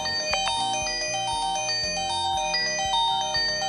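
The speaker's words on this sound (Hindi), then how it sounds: "तो ये रिंगटोन इसकी काफ़ी अच्छी है" A Kechaoda K112 keypad phone with a loud speaker plays a bright electronic ringtone, a bouncy, repeating melody with steady bass notes, continuous and clear, with no voices.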